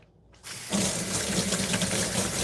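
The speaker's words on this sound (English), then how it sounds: "I'm going to just give my hands a quick rinse" A kitchen faucet opens and water runs steadily into a sink as hands are rinsed beneath it, close and fairly loud with no talking.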